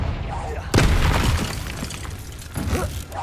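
A Confringo spell explosion in the Hogwarts Legacy video game goes off as a sudden loud blast with a crackling, shattering tail that fades over a few seconds, while a voice talks underneath.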